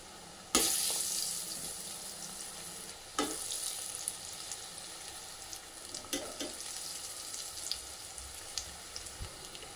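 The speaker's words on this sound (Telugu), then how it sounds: "ఇలా తిప్పుతూ గారెను ఫ్రై చేసుకోండి." Bobbarlu garelu, cowpea fritters, sizzling steadily in hot oil over low flame, with a few sharp clinks as they are turned one by one.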